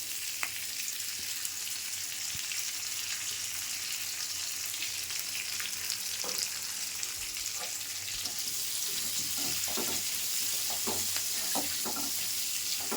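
Tomato frying in oil with turmeric and salt for an egg curry, a steady sizzle throughout with sparse spatula scrapes and clicks growing busier toward the end, no one speaking.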